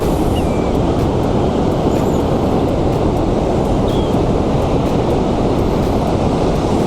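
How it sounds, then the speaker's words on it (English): A loud, steady roar of wind sweeps across an open Pacific Northwest beach, with a constant wash of surf underneath and no voices. "But today, it's just a little windy and it's absolutely gorgeous."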